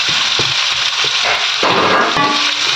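Two large onions frying in a pan, a steady close hiss and sizzle with a few soft stirring knocks early on.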